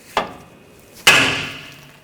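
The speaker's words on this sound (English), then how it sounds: "I'm just going to use a hammer and give it a tap." Two sharp hammer strikes on a steel steering knuckle to knock loose the tie rod end on a 2014-2020 Nissan Rogue, each a close metallic clang with a ringing tail, the second louder and longer.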